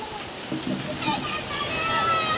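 Steady heavy monsoon rain roars with a gusty wash of wind in a Konkan village, dense broadband noise throughout, and faint voices mixed underneath.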